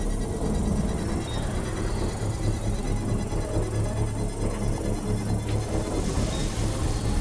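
A structure printer building a watchtower in the video game Death Stranding gives a steady, dense mechanical hum and buzz that holds at an even level throughout.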